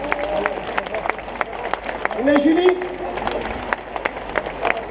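Audience applause at an outdoor nature-festival concert, steady clapping with crowd murmur while a presenter talks over it and a brief whistle or cheer rises in the middle.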